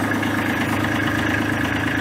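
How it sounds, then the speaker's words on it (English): A tractor engine idles steadily after being started, a continuous low mechanical hum with a clear harmonic drone and no revving, heard close and alone. "you'll actually start the tractor up"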